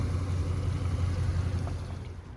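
A car engine idles with a steady low rumble and even throb, close by, running alone without voices.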